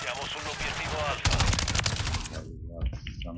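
Automatic gunfire bursts loudly from the multiplayer match in Call of Duty Modern Warfare 3, dense rapid shots filling the middle before a brief lull and a few trailing shots, with players' voices talking over it.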